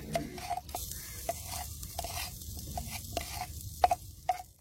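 Garlic is stirred in a frying pan, with quiet scraping strokes and sharp clinks of the spoon against the pan at irregular intervals over a soft sizzle.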